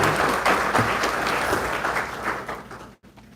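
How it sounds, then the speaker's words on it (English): Dense, loud applause from an ethics symposium audience honoring a panel, many hands clapping in a continuous wash that thins and dips briefly near the end before resuming. "One last round of applause to our panel,"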